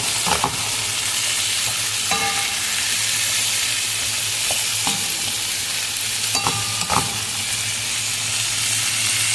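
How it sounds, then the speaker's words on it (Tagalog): String beans sautéing with garlic and onion in a pan for adobong sitaw, a constant loud sizzle and hiss with a few sharp metallic clanks of a spatula stirring, close and without voices. "ginisa ko na nga ang sitaw"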